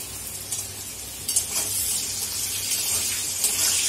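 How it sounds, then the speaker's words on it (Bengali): Cauliflower curry cooks in a pan on the stove with a steady, close hiss and sizzle, plus a few faint stirring clicks, and no voices. "এখন এখানে ফুলকপির তরকারি চাপিয়ে দিচ্ছি"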